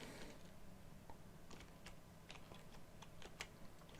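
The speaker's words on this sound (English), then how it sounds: "That's with the clacking of bones." Dry, hollow bone clacks from a Minecraft skeleton rattle in a rapid, irregular series of light ticks over a low ambient hum, faint and without speech.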